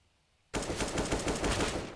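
Counter-Strike match on Nuke: after a brief near-silence, loud rapid AK rifle and Desert Eagle gunfire bursts in and keeps rattling densely to the end.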